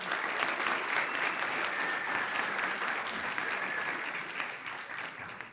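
Continuous applause from an audience at a finance panel event welcoming a Santander Asset Management CEO, a dense, even roar of many hands clapping that stays loud throughout.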